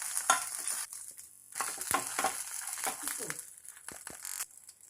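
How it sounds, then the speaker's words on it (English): Long green chilies sizzle and crackle in hot oil while being stirred in a pan, with scraping stir sounds and a steady frying hiss throughout, no talking. "Fry the chili."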